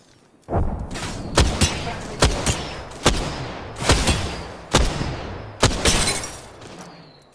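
Gunfire in the video game Apex Legends: several sharp shots and impacts spaced about a second apart, each with a short ringing tail, over a constant low background of battle noise.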